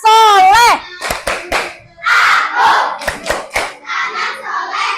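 Children clap a rhythmic school chant (tepuk anak soleh) in quick sharp bursts, mixed with loud young voices calling out the chant in a classroom setting.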